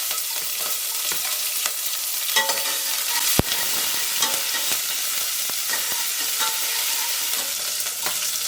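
Green chillies frying in hot oil with mustard seeds and cumin give a loud, continuous close sizzle with spatters, stirring scrapes and one sharp clack.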